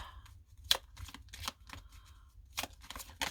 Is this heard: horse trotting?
no